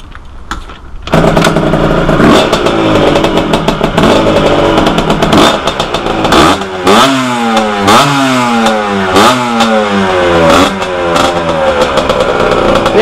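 A Husqvarna 125 motorcycle engine, unfinished and started for the first time, idles roughly, then revs repeatedly in loud, rising and falling bursts, close by and with no talking.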